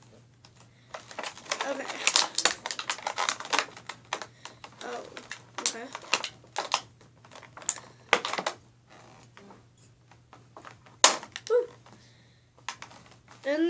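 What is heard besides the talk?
scissors cutting doll packaging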